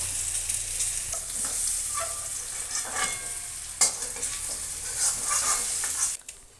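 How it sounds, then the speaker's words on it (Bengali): Potatoes frying in a pan for a chicken curry while being stirred, a steady close hiss with scraping touches throughout, ending abruptly near the finish; no talking. "দেখো বন্ধুরা, আলুটা আমার ভাজা হয়ে গেছে।"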